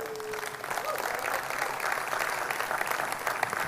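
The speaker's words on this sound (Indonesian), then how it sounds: "Tepuk tangan saya lagi." Applause from an audience at a leadership training event, a fairly quiet, steady patter of many hands, heard from a distance throughout.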